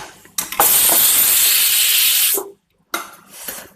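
A pressure cooker holding jackfruit on the stove lets off a loud, steady hiss of escaping steam for about two seconds. It stops abruptly, then a shorter, softer burst of hissing follows. Nobody speaks.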